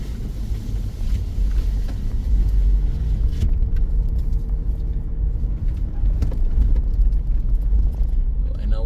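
A four-wheel drive vehicle crawls along a muddy forest road, its low engine rumble steady and close throughout with some wind buffeting the microphone.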